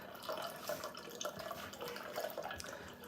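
Water pours steadily from an automatic dispenser on a fridge into a container, a continuous trickling and splashing close by with no talk over it.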